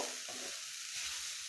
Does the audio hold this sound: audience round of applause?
no